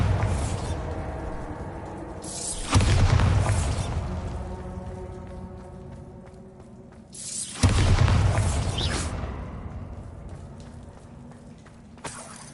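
Bombarda spell blasts in Hogwarts Legacy, two heavy booming explosions several seconds apart, each a loud broadband hit with a deep rumble that slowly fades, over quiet ambient game sound.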